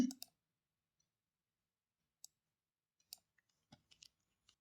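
Sparse, faint mouse clicks on a Windows 11 computer, a few isolated sharp ticks spaced irregularly across mostly silent stretches, with a slightly louder click right at the start.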